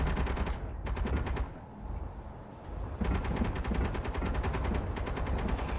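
Interior turrets firing in the space game Space Engineers, a sustained loud rapid automatic gunfire rattle that briefly dips and then resumes at full intensity.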